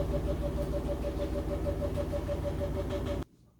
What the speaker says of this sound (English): I just let it go to see how long the spin cycle was.